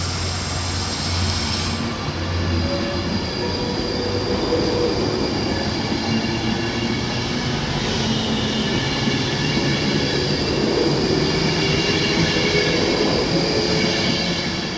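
A Virgin Trains Class 390 electric train passes through Wigan North Western station, a loud continuous roar of wheels and motors with some squealing, sustained throughout.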